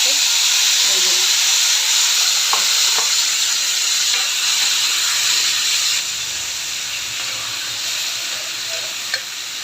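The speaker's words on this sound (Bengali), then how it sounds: "এখন আমি আদা সিদ্ধ পেঁপে আর পেঁয়াজগুলো একসাথে ভেজে নেব।" Ginger, boiled papaya and onions fry together in a pan with a steady, close sizzle and hiss, broken by a few soft stirring knocks, and the sizzle eases slightly partway through.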